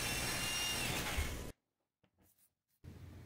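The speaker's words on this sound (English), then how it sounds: "Using our trusty old quarter drill, we drilled a 1-inch hole in the roof." A 1/4-inch power drill bores a 1-inch hole through the roof of an Aliner Scout popup trailer camper, a loud steady whir for about a second and a half, then near silence with faint knocks, and the noise returns.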